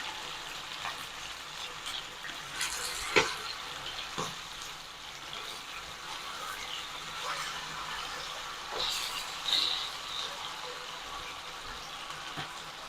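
Chicken 65 frying in a pan gives a faint, steady sizzle with light crackling and a couple of sharp utensil knocks, quiet and continuous with no speech.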